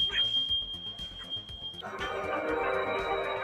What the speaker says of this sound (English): It's got smoke detectors, dude.